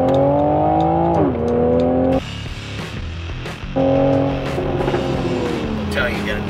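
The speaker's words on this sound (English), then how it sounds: "you get a nice little exhaust note in the back" A 2020 Toyota Supra accelerating, its engine and exhaust note climbing in pitch through gears, with a brief shift dip, then pulling hard again, loud and close from inside the car.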